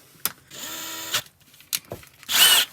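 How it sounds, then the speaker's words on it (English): Power drill boring into a rust-seized transmission pan drain plug, running in short bursts: a brief spin, a sustained whine, then two more quick bursts, close and loud with clanks between. "I couldn't get the plug out, so I drilled the pan"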